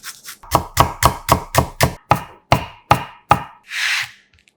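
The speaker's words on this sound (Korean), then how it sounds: "잘게 다져 준비하고" An onion being finely chopped with a knife on a board gives about a dozen crisp, evenly spaced chops, loud and close, followed by a brief scraping sweep, with no talking.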